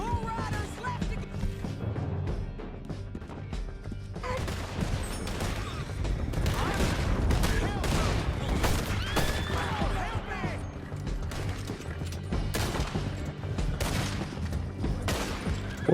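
Gunfire in Red Dead Redemption II during a riders' chase through a canyon, bursts of rapid shots and crackling volleys building into a dense fusillade, with voices talking over the shooting.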